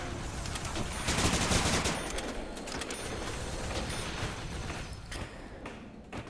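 A minigun fires continuously in a Call of Duty Zombies game, a dense unbroken rattle of rapid shots that stays loud throughout, easing slightly near the end.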